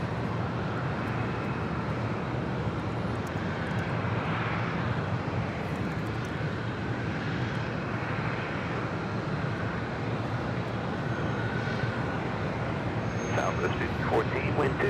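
A Southwest Boeing 737-700 airliner inbound from Phoenix, arriving at LAX, produces a steady, broad engine roar that holds loud and constant throughout, with a faint hiss near the end.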